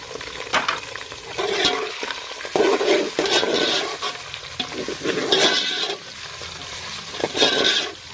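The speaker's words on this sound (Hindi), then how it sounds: "अब हम चिकन को कर लेंगे अच्छे से ब्राउन।" Chicken pieces browning with already browned onions in a pan for palak chicken, a loud sizzle that swells and falls with spatula stirring and scraping, close by, no talking.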